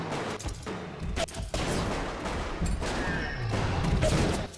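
Dense bursts of gunfire from the video game Bioshock, with shots clustered in rapid volleys and sharp cracks against a busy, loud game soundscape; no one speaks.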